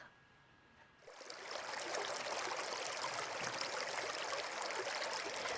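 River water flowing and trickling over stones, starting quiet and swelling after a second into a steady, close, continuous rush.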